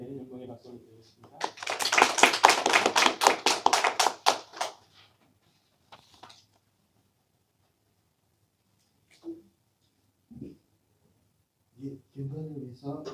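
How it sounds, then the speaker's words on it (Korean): A church chapel congregation claps together in a steady, even rhythm for about three seconds. Talking comes before and after, with quiet gaps between. "우리 주님 앞에 영광의 박수를 드리겠습니다."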